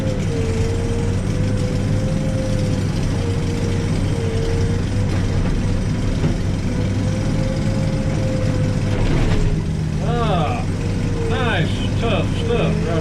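A backhoe's diesel engine drones steadily and loudly while it digs through tough shale down in a hole beside pier rebar, with metallic squeals and scraping bursts near the end.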